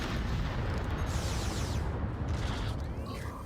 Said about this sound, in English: Let's also hope that these explosions aren't going to carry too far either